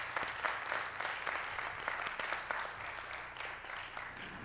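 Audience applause during a radio station's community conversation on the high school dropout rate, a crowd clapping steadily with distinct individual hand claps audible throughout.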